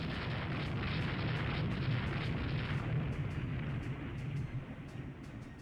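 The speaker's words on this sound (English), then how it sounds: "It's another bomb hit on the Elba." Bombs striking a warship in the naval strategy game Rule The Waves 2, a dense, loud rumbling roar of explosions with crackling bursts that eases slightly near the end.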